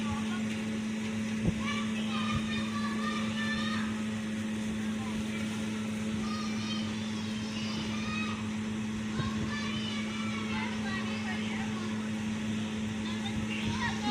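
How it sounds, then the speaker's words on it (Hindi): A sewing machine stitches the hem of a child's trouser cuff with a steady, continuous motor hum that runs the whole time. A voice talks faintly over it. "सबसे पहले हम पाइंचे पे किनारे की सिलाई लगाएंगे।"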